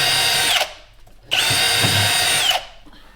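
A power drill boring a hole through a workpiece, two loud close bursts of whining motor with a short pause between them, and no talking.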